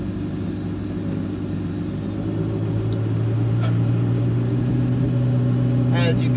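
A Ferrari 488 Challenge race car pulls away slowly, its engine a steady low drone with a gentle rise in revs, heard close with a brief whine and faint background noise.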